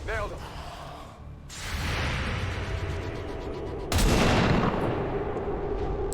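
Gunfire from overwatch shots in the video game XCOM: War of the Chosen, harsh blasts in bursts, the second burst louder and fuller, mixed with game sounds and breathy vocal noises.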